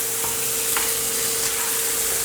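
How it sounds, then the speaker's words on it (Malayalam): Mutton being stirred with spice powders in a pan for mutton mandi, a steady close sizzle with a few scraping stirs and a faint constant hum underneath, no talking. "നമ്മൾ ഈ ഇട്ടേക്കുന്ന പൊടികളൊക്കെ ശരിക്ക് മട്ടനിൽ പിടിക്കുന്നവരെ നന്നായിട്ടൊന്ന് ഇളക്കി കൊടുക്കാം."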